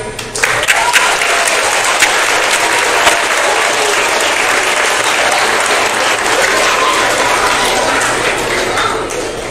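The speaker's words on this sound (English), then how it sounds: "I would like to give a round of applause to Miss Warwick for a great career" Sustained applause from a school audience at a move-up day event, loud and steady for about nine seconds with dense clapping throughout and no clear speech over it.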